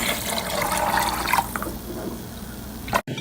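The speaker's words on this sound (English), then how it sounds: "I'm gonna add the water on top to cover." Water poured over beans in a pot to cover them, a close splashing pour that fades into trickling, then a brief clunk near the end.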